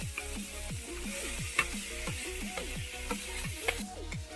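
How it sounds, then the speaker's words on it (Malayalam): Tomato and capsicum sizzling and frying in hot oil for chicken biryani, stirred steadily with a spoon in a repeated scraping rhythm, close and fairly soft with no talk. "തക്കാളിക്ക, ക്യാപ്സിക്കം ഇടാൻ പോവാണ് കേട്ടോ."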